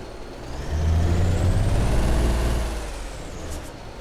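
A heavy truck in the video game Alaskan Road Truckers pulls away after its handbrake is released, its low engine drone swelling steadily and holding loud before easing back, with a faint high whine above.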